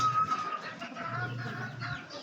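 Chickens cluck and murmur close by, a continuous low, busy chatter of fowl.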